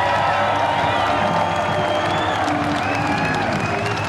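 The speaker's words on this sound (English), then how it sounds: "please give a nice welcome round of applause from the Holden Racing team." Crowd at the V8 Supercars Shanghai round applauding and cheering the Holden Racing Team winner on the podium, a loud, continuous roar of clapping and whoops with a public-address voice faintly mixed in.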